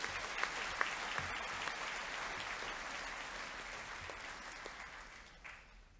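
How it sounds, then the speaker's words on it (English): An audience at a school information evening gives the boys a round of applause, sustained clapping from a room full of people that gradually fades toward the end. "Please, a round of applause for our boys."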